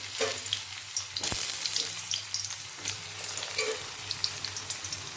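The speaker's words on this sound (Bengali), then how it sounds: "তেল গরম হয়ে গিয়েছে, এর মধ্যে আমি আলুগুলোকে ছেড়ে দিচ্ছি" Potatoes are dropped into hot oil in a wok, setting off a close, busy sizzle with a sharp splashing burst early on, then bubbling crackles that continue throughout. No voices.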